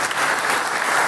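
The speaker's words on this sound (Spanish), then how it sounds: "Vamos a darle un aplauso a toda esta gente" A crowd at a municipal campaign closing rally in Celaya bursts into steady, dense applause, loud and continuous throughout with no voices standing out.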